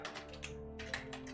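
Keys on a computer keyboard clatter in quick, irregular bursts of clicks, close and fairly soft, with no voices.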